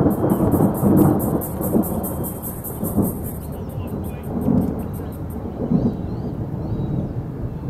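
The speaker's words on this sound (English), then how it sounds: "a couple of storms rolled in from the escarpment" A thunderstorm over Lake Illawarra, rolling in from the escarpment, brings loud, steady rain and deep rolling thunder that swells and rumbles on throughout, with a faint high repeated tone above it.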